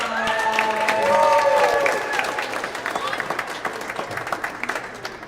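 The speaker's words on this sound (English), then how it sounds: "please give a round of applause to world number 44 from Colombia, Juan King Midas Vargas" An audience applauds at a National Squash League match, Nashville Crushers against Derby City Colts, with steady clapping and cheering. An announcer speaks over the start, and the applause thins into scattered claps.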